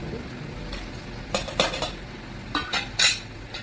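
Vegetables are cut for a curry in two quick bursts of sharp knife clacks and clinks against a board or vessel, close by, over a soft background hiss.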